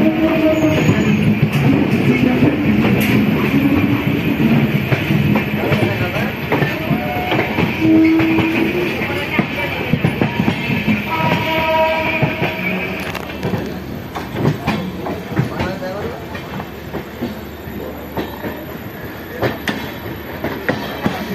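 The 13147 Uttarbanga Express passenger train pulls away after an engine fault delay, its heavy wheels clattering steadily over rail joints close by, with a brief horn tone and rumble that slowly eases as it moves off.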